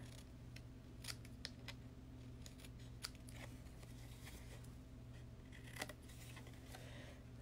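Scissors snipping through paper while cutting out shapes for handmade Stampin' Up! cards, a scattered series of short crisp snips at close range over a faint steady hum, with no speech.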